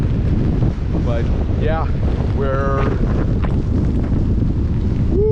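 Strong tropical storm wind roars across a northeast-facing beach, a constant loud buffeting rush over the microphone with heavy low rumble throughout, while a person speaks briefly near the start.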